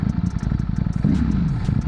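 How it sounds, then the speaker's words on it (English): A Ducati Streetfighter V4 engine revs through its stock exhaust, a loud, close, low rumble with rapid pulsing firing beats that swell into a rising rev toward the end. "The stock exhaust sounds nice."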